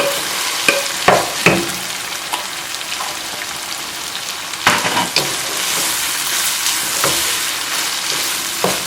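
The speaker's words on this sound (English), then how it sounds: "now I'm going to add the diced onion" Diced onion frying in a pan for a southwest-style dip, a steady loud sizzle with sharp scrapes and clatter of stirring scattered through, no voices.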